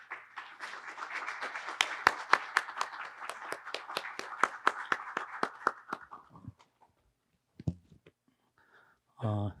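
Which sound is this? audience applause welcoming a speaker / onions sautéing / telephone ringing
audience applause welcoming a speaker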